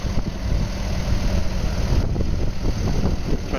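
A 2009 Fendt 820 Vario TMS tractor, a 205-horsepower machine, idles with a steady low engine rumble that stays even and continuous from start to finish.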